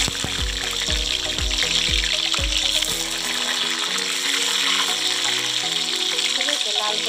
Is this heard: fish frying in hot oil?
yes